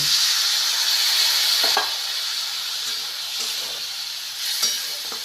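Spice paste and potatoes for a Bengali-style fig curry sautéing in a pan, a steady loud sizzle with a few stirring scrapes, close up, no talking.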